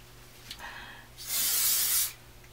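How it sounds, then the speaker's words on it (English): A single burst of heat protectant aerosol spray hisses close by for under a second, preceded by faint handling noises. "I'm going to use a heat protectant."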